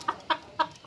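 Three short clucks from a newly arrived chicken, evenly spaced and fairly close, with no other sound around them.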